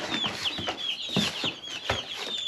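Chickens and young chicks cluck and cheep nearby in a busy, overlapping chorus, with repeated short calls and high peeps continuing throughout.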